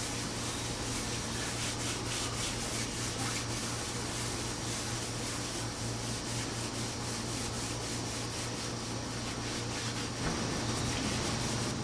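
Flannel rag cut from old pajamas buffing wax on a wooden quilt rack, a continuous close rubbing hiss with steady back-and-forth strokes and no talk.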